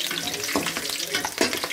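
Four green chillies frying in hot oil in a pan for a soybean and mutton-stock curry, a steady close sizzle with a few short crackling bursts and no talk.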